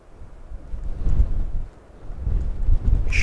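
Gusty wind outdoors in the Lake District, UK, buffets the microphone in loud low rumbling surges that rise, dip briefly, then swell again.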